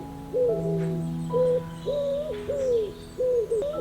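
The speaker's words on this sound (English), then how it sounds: "Pigeon." A series of soft, low, tonal coos from a pigeon repeats in short phrases several times, fairly close and clear against a quiet background, with no talking.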